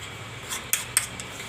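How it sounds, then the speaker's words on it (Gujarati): A metal kadhai is set down on a gas stove, giving a few light metallic clinks and taps, two sharper knocks among them, against a quiet kitchen background. "કઢાઈ રાખશું,"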